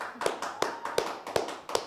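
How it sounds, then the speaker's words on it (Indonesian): A few people clap sparsely to welcome a guest onto an Indonesian talk show, with about six distinct hand claps spaced at a loose, uneven rhythm. The sound is fairly close and moderately quiet, and no one is talking. "Tepuk tangan dulu dong."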